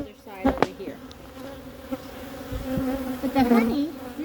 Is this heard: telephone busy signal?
no